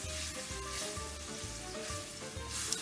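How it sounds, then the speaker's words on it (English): Dry white wine hits a hot pan with guanciale and sizzles loudly and steadily, a close, dense frying hiss with a faint rhythmic low thump of stirring underneath, no voices. "And then I add a splosh of dry white wine."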